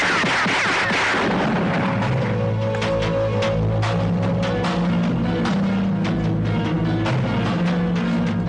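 Gunfire, a loud sharp report at the start followed by a rumbling boom and echoing tail, with later dull thumps and a steady hum beneath, no voices.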